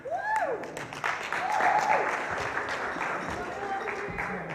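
Church congregation applauding a couple called up to the front, steady clapping through the whole stretch with cheers and voices rising above it.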